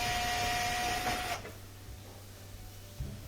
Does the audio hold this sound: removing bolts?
yes